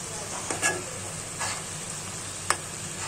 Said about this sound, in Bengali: মশলাটাকে একটু ভালো করে কষাবো।